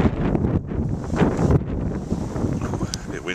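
Gusty wind blows outdoors in the cold pre-dawn dark, buffeting the microphone with uneven rushes and low roaring noise throughout.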